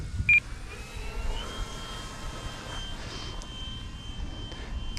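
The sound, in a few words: E-flite Draco RC STOL airplane flying slowly with landing flaps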